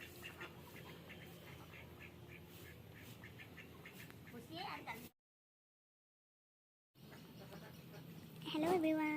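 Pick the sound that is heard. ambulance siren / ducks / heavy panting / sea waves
ducks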